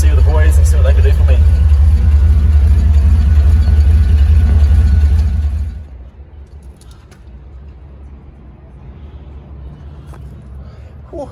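A Dodge car engine idles while warming up after a fresh AGM battery was fitted. It gives a loud, steady low rumble for about six seconds, then drops to a much quieter hum.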